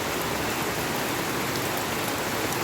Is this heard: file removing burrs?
no